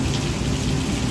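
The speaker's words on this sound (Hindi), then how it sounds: "इतनी बारिश हो रही है" Heavy rain falling outdoors near a market, a dense, steady, loud hiss of drops pouring continuously with no pauses and no voices.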